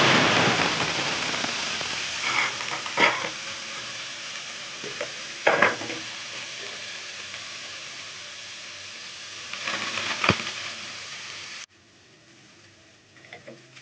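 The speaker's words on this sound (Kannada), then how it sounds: "ಇವಾಗ ಬೆಳ್ಳುಳ್ಳಿ ಬೆಳ್ಳುಳ್ಳಿ ಶುಂಠಿ ಕೊಬ್ಬರಿ ಎಲ್ಲ ಸ್ವಲ್ಪ ಹುರ್ಕೋಬೇಕು" Garlic, ginger and coconut roast in a hot pan for a hyacinth bean curry, giving a steady, close sizzle with occasional stirring scrapes. The sizzle drops sharply quieter near the end.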